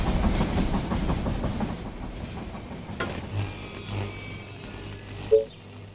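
A train pulling into a station in the They Are Billions video game, rumbling and clattering along the rails, then fading to a low idle with a short sharp tone near the end.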